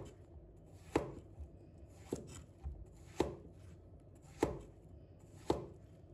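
Knife chopping luffa (sponge gourd) into chunks on a board: five evenly spaced sharp chops about a second apart, close and fairly quiet, with no talk.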